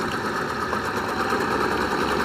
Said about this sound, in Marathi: ही खूपच झिगझगवाली शिलाई आहे